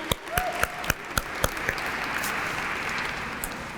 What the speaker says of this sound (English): Let's give another round of applause for everybody.